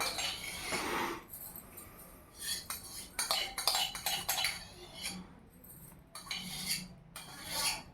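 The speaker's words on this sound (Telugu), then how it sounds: "ఇదంతా కలిపేసుకోవాలి" A spoon scrapes and clinks against a pan while palkova ingredients are mixed, irregular metallic strokes in short bursts at moderate distance, fairly quiet overall.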